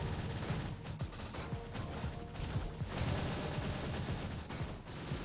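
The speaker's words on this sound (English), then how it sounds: "You just blast him with the big gun." Cable fires his big gun in the Marvel Future Fight video game, a dense rapid fusillade of synthetic blasts rattling continuously at close range.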